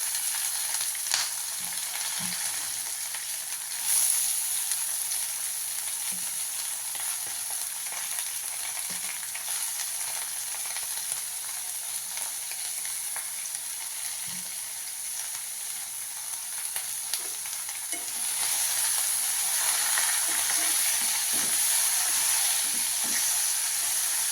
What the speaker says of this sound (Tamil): நல்லா அந்த பச்சை வாசனை போக நல்லா வதக்கிக்கணும்